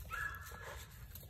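A bouncy five-month-old female puppy lets out a short, thin whimper during agility training, a high whine in the first half second over steady low background rumble, with no talking.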